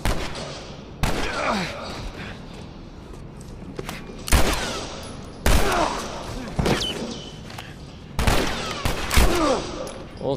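Bursts of gunfire in The Last of Us ring out in several loud clusters of rapid shots separated by short pauses, with a faint voice between volleys.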